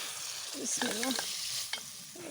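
Chopped vegetables go into hot oil in a village kitchen and sizzle steadily up close, while a brief wavering high tone rises over the frying midway.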